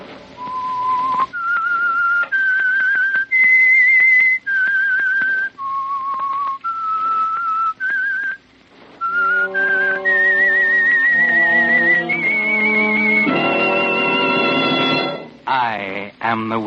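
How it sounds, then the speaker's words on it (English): A lone whistler carries the slow, eerie signature melody of The Whistler radio mystery show, sustained clear tones stepping up and down, then swelling with orchestral backing toward a short close. "That whistle is your signal for the Signal Oil Program"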